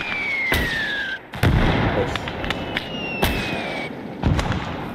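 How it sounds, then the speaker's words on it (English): Mortar shells exploding in the WWII game Call to Arms: Gates of Hell on the Eastern Front, several sharp blasts at irregular intervals with incoming whistles before them over a rumbling battlefield background. "Until the mortar hits him now."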